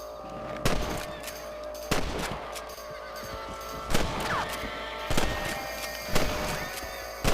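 Rifle shots fired at rabbits in the Red Dead Redemption video game, five or six sharp loud cracks spaced about a second apart, each with a short echoing tail over a faint background.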